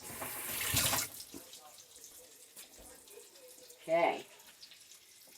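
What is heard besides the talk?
tap water running while washing chicken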